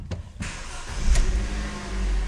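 Opel Corsa 1.2 16v engine idling steadily with a low rumble after a brief start-up burst, heard close without any talk.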